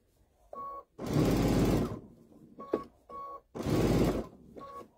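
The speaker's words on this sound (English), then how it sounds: "I'm going to sew" A Baby Lock Altair 2 sewing machine stitching through organza, running in two long steady mechanical bursts broken by short whirs and faint beeps, close and fairly loud, with no talking.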